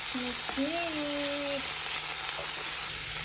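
Eggplant frying in a pan gives a steady hiss of sizzling oil throughout, joined briefly near the start by a sliding tonal whine, with no talking.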